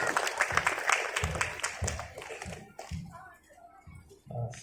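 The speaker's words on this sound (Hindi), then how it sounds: "मैं चाहता हूँ कि एक बार जोरदार तालियां उनके लिए बजाएं" Audience applause for a poet at a Hindi poetry gathering, a burst of clapping that thins and fades partway through, while someone speaks over and after it.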